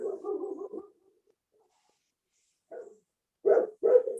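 A pet dog barks several times during a public utility commission meeting, a short burst followed by a pause and then two or three more moderately loud barks, clear with no talk over them.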